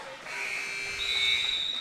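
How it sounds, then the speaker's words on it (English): A referee's whistle at a basketball game sounds as a steady, sustained shrill tone, fairly loud and held for well over a second over faint gym ambience. "And there is a whistle call."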